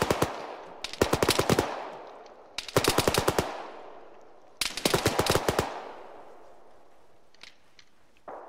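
Three long bursts of automatic machine gun fire in the military shooter Arma 3, each a rapid string of sharp cracks with decaying echo, separated by quieter gaps and a few distant shots near the end.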